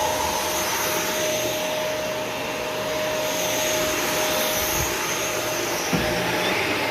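A vacuum cleaner runs steadily with a high-pitched whine and airy roar, close and constant, with a couple of faint knocks in the background.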